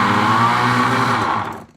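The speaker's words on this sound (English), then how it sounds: "you guys can see the blender again at its magic here" A PC Deluxe cooking blender whirring at high speed while blending broccoli cheddar soup, a loud steady motor whine that holds then winds down and stops near the end.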